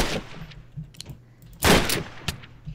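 Carbine shots in a Minecraft Flans Mod one-on-one match: a few sharp, separate cracks, the loudest near the middle, with softer ones before and after and no talk.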